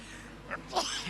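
A single close sneeze, brief and sharp, followed by a breathy burst, heard over quiet background.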